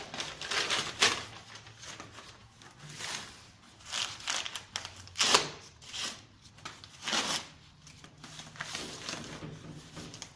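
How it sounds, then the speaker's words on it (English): Brown paper wrapping torn and crinkled off a coil of packing strapping, a run of loud rustling rips and crackles in bursts separated by short pauses, close and without speech. "Take all the brown paper off."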